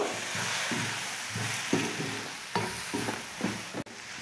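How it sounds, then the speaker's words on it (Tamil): Masala frying in a pan for Tamil-style chicken gravy, with a steady sizzle broken by repeated scraping stirs of a spoon against the pan, close up and with no talking. "மசாலாலாம் நல்லா வதங்கிடுச்சு."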